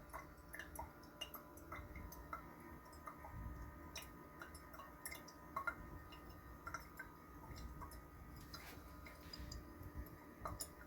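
A Gabi Drip Master pour-over brewer with a full middle chamber lets hot water fall in a gentle rain, a steady patter of soft close ticks and drips running throughout with no talk.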